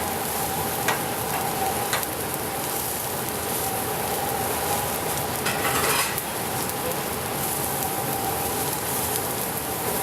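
Scallops searing in a nonstick pan give off a steady, close sizzle and spatter that holds evenly throughout, with a brief swell of crackling midway and no talking.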